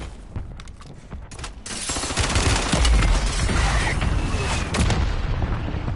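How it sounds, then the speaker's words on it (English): Mortar strike explosions in the Warzone battle royale game, a dense barrage of heavy booms and crackling blasts that swells after a quieter start and stays loud and continuous. "He's just getting like directly blasted with a mortar."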